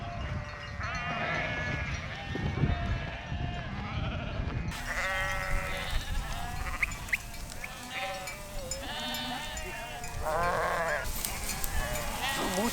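Sheep bleat repeatedly on a working farm, several animals calling near and far in overlapping wavering cries over steady outdoor ambience, with a brief voice in the background.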